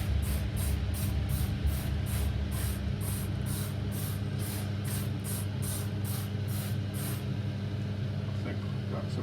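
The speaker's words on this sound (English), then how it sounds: "Just get that sprayed to stop it from boiling over." Repeated short bursts from a spray bottle misting boiling wort in a homebrew kettle to keep it from boiling over, about fifteen quick regular hisses over a steady low burner roar, with voices talking throughout.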